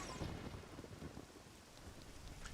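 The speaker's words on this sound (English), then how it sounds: "I can hear it out the window. It's raining outside." Soft, steady rain patters outside, faint and diffuse, with a low rumble underneath and no voices.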